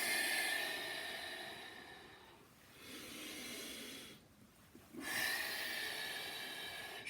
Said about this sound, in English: Really fire that exhale, that nice resonant exhale.